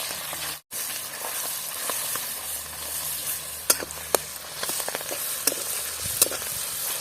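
Rohu fish belly pieces with turmeric sizzle and crackle steadily in hot oil, with sharp pops and spatters standing out near the end, close and continuous.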